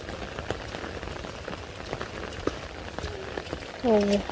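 Rain patters steadily on surfaces outdoors in a village, a soft continuous hiss with scattered drop taps, and a brief tonal sound near the end.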